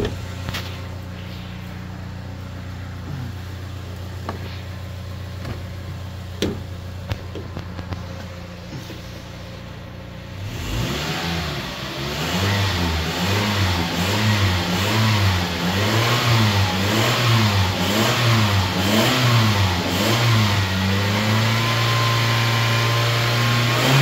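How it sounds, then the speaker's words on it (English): A Toyota car engine with a P0136 bank 1 sensor 2 oxygen sensor fault idles with a few clicks, then is revved repeatedly, its pitch rising and falling in a series of close, rhythmic surges. "Might just give it a little rev."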